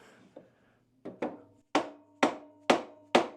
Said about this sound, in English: We got a piece of hardwood, dead blow mallet.